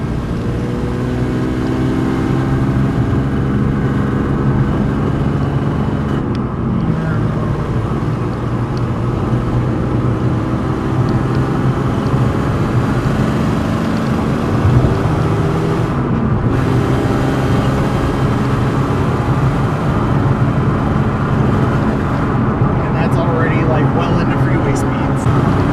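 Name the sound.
Nissan 350z running with Tomei exhaust and silencer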